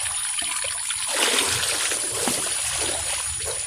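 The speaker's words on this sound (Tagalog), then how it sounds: "makaligo si Solo dito sa tubig ng balon" Well water splashing and trickling as someone bathes, a steady broadband wash with small splatters and pours, fairly close and loud throughout with no clear talk.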